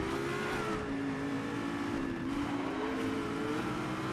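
A Dodge Viper with an 8.5-litre, 500-horsepower V10 races in a driving game, its engine holding a steady, loud, high-revving drone with slight pitch shifts throughout and no voices over it.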